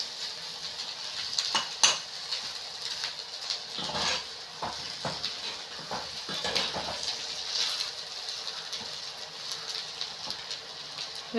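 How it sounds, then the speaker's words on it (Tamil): A spatula scrapes and clinks against a pan while colocasia fry with masala is stirred, with irregular metallic taps over a soft sizzling hiss, close and moderately quiet. "நல்லா திருப்பி விட்டுக்கோங்க, அப்போ தான் அந்த மசாலா ஃபுல்லாக அந்த காயில் இறங்கும்"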